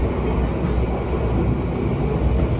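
KA Harina passenger train in motion past Pemalang station, a steady loud rumble of wheels on rails with dense low-end roar, continuous and close, no talk.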